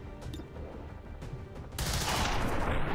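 Gunfire in the tactical game XCOM 2 breaks out as a sudden dense burst of shots partway through, loud and sustained after a quieter stretch of ambient game sound.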